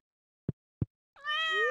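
A cat meows once in the Stardew Valley video game, a clear rising then falling call that follows two short soft taps, close and alone with no talk.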